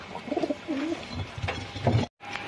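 White Giribaz pigeons cooing up close, several soft low coos in quick succession with a brief break near the end.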